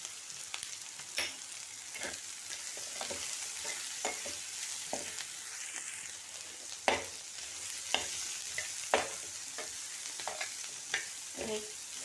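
Vegetables for chilli chicken are stir-fried and tossed in a hot pan, a steady sizzle broken by repeated clattering stirs and scrapes at an irregular pace.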